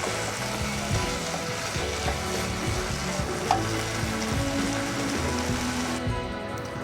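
Masala spices frying in a pan on a low gas flame give a steady, close sizzle and crackle, with soft stirring scrapes throughout and no talking.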